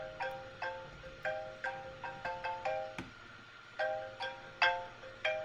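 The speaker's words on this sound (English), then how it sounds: "the phone is ringing" A phone rings in a repeating electronic tone pattern, bursts of bright chiming beeps in quick clusters with brief gaps, clear and fairly close, with no talking over it.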